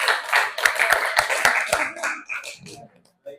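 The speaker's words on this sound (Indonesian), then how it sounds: "Oke, tepuk tangan dulu." A classroom group claps hands together in quick, fairly loud bursts that thin out and trail off into near silence, with some voices mixed in.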